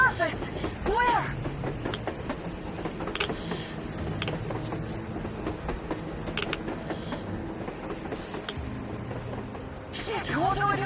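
A video game train rolling along on the surface, a continuous rumbling clatter with metallic squeals, heard close and steady under game ambience.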